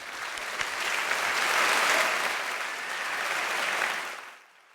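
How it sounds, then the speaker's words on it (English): An audience at a Bristol talk event breaks into a big round of applause, a dense, steady wash of many hands clapping that swells and then fades out near the end. "can we have a big round of applause for Sharon Blackie and Kate Muir"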